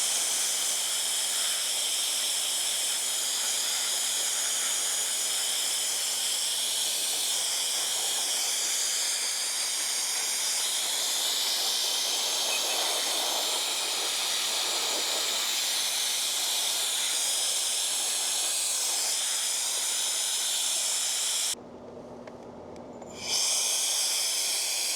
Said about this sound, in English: this is going to be a great test to try to blow all this dust out